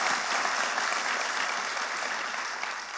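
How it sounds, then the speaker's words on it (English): An audience at a chamber of commerce annual meeting claps steadily for new board members, a dense, even sheet of applause throughout with no talk on top. "let's give them a round of applause"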